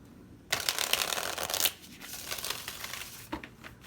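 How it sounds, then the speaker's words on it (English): Tarot cards are shuffled in crisp bursts of riffling and slapping, close and clear, with a brief pause and a few short card flicks near the end, no voice over them. "Let's do one more shuffle."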